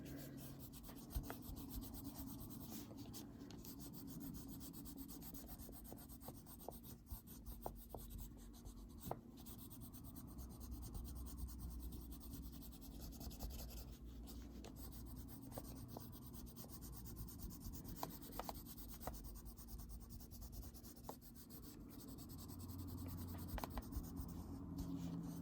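A blending stick rubs over Neocolor II wax crayon on paper, giving soft, close, continuous scratchy strokes with occasional sharper scrapes throughout, faint and without talk.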